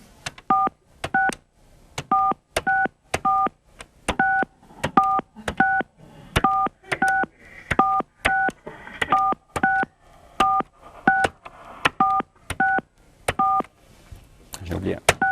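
Touch-tone telephone dialing: a long, evenly paced run of about twenty crisp dual-tone beeps, each short and clear, sounding close and dominating the clip.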